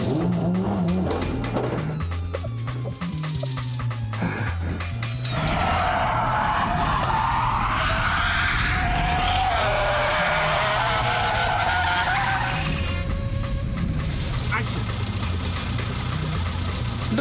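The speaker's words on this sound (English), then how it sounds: "And now it's donut time in a Lister storm." A Lister Storm race car spins donuts, its engine revving hard and tyres skidding and screeching loudly and continuously at close range, with no talk.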